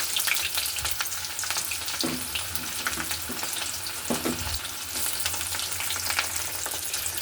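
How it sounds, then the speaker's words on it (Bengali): Chopped onion frying in hot oil for a soybean paste dish, a constant loud sizzle with a few soft stirring scrapes and knocks in the pan, no talk. "এবার আমি এর মধ্যে কিছুটা কুচো পেঁয়াজ দিয়ে দেব।"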